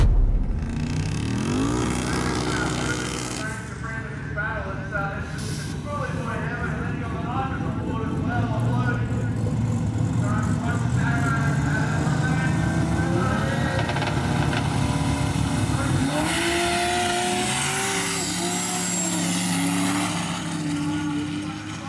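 No-prep drag race cars, including a Corolla, accelerate hard with loud, sustained engine roar and rising revs across the whole stretch, under continuous crowd and commentary-like voices.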